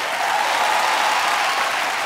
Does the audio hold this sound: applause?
yes